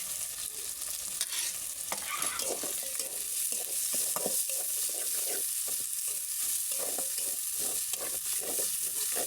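Ginger-garlic paste with turmeric, chili and coriander powders frying in a pot for haleem, stirred continuously; steady close sizzle with rhythmic scraping strokes throughout, no voices.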